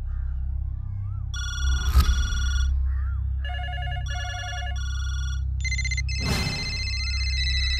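Telephone bell ringing in a Hindi dubbed action movie, sounding in repeated electronic bursts over a low music bed, with a brief sharp hit near the middle and another near the end.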